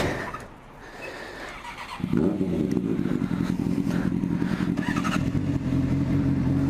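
A Honda CBR 600 sport motorcycle with a Yoshimura exhaust starts up and settles into a loud, steady idle with a throaty exhaust rumble, close by and continuous.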